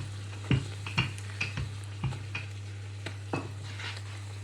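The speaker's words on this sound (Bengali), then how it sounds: "আমি একদম সর্বোচ্চটা দিয়ে কিন্তু এই লুচিটা ভাজতেছি" Luchi deep-frying in very hot oil on high heat, with a steady low hum under repeated soft stirring and sizzling bursts about every half second, close and fairly quiet, no talk.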